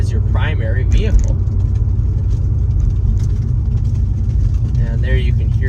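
A C6 Corvette driving on rough, wet roads, its engine and road noise forming a steady loud rumble with bumps and thumps from the uneven surface, while someone talks over it.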